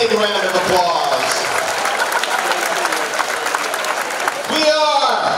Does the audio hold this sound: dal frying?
no